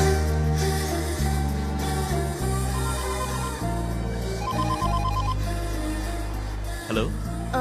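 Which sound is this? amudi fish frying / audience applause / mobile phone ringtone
mobile phone ringtone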